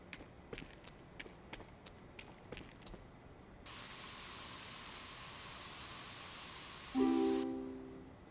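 In the video game Spray Paint Simulator, a few light clicks lead into a long, even spray-can hiss of about four seconds, which ends as a brief tonal chime sounds.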